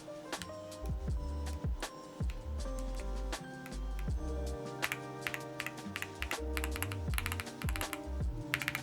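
Steady computer-keyboard typing with many quick, uneven key taps in a continuous run, close and clear, no voices.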